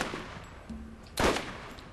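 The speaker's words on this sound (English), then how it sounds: "I shot them with a sniper" Gunfire in the video game Borderlands: a short sharp sniper-style shot crack stands out after a quieter burst, with no talk over it.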